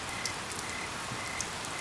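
Steady rain falls on a surface in an outdoor scene from a Chinese crime drama, a soft even hiss with a few scattered louder drops, fairly close and without voices.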